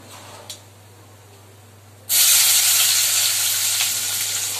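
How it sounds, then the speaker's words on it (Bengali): Cumin seeds dropped into hot oil in a kadai burst into a loud, sudden sizzle about halfway through, after a quiet stretch with a light tap, then hiss steadily and close up to the end. "কড়াই তেল আর জিরা ফোড়ন দিয়ে দিয়েছি"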